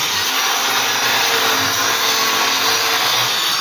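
A power cutter whines loudly and continuously during bathroom plumbing work, a harsh, steady grinding roar with no pauses and no voices.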